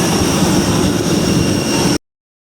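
An Airbus A321 jet engine roars as a steady, loud whine with a thin high tone on top, heard up close at the end of a three-hour flight from Geneva, then cut off abruptly.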